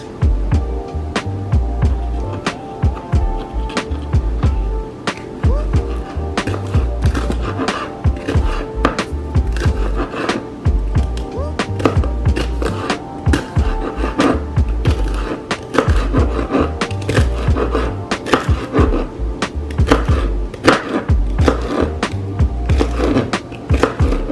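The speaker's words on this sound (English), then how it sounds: "Now I will finely chop the veggies." A knife finely chops baby carrots, mini sweet peppers and celery on a board in quick, steady strokes, producing a long run of close, sharp thuds with no speech.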